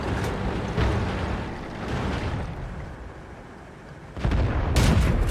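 Tank cannon blasts and shell impacts in a tank battle video game, the T67 tank destroyer firing: heavy booming bursts recur throughout, loud and dense, with a strong rumbling onset near the end and no talking.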